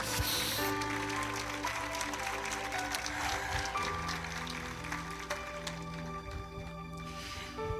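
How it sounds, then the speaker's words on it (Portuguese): A church congregation claps steadily for several seconds under loud keyboard music, the applause a dense, continuous patter rather than distinct single claps. "aplauda o Senhor."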